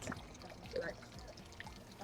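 Water poured out onto the ground at a Mount Fuji shrine, a soft trickling splash that comes in a few quiet pulses, heard close with faint ambient noise.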